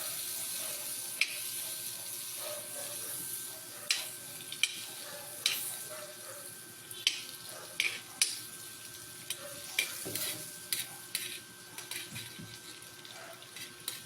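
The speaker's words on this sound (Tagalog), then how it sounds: "At ito, mainit na yung kawali. Salang na natin yung butter." Butter melting in a hot frying pan for buttered shrimp gives a steady soft sizzle, with scattered clicks and light scraping taps from utensils recurring throughout, fairly quiet and close, with no talking.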